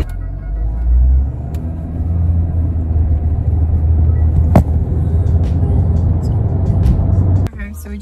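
Steady road rumble and engine drone of a car being driven, loud and continuous inside the cabin, with a brief clunk near the end.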